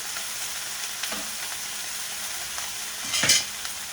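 A ribeye steak sears in a hot skillet with a steady, moderately loud sizzle and hiss, with a brief louder crackle near the end, and no talking.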